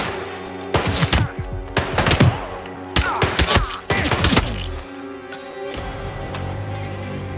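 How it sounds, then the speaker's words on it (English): Gunfire in the stealth game Hitman 3: rapid bursts of loud shots and thuds in clustered volleys, with brief pauses between them, fading into a lingering tail near the end. "Our suspect is open fire on my position!"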